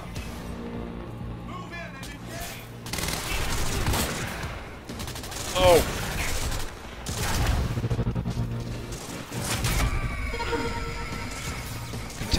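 Rapid bursts of gunfire from the Quantum Break video game crackle over a rumbling game soundscape, with repeated shots and ricochet-like whines, loud and close, while a person talks over the action.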